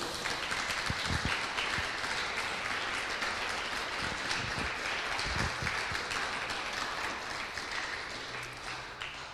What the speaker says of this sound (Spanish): Le podemos dar un aplauso a nuestro Dios.